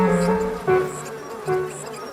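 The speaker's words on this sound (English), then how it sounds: "there was a buzz as the elderly queen bee entered the" A buzzing bee sound effect marks an elderly queen bee entering a court, a steady droning hum that swells twice, with no talking.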